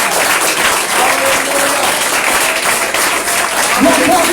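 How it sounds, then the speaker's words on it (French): Church congregation applauding and cheering at a worship service, a dense, steady wash of clapping throughout with voices mixed in. "Nous acclame le grand Jésus"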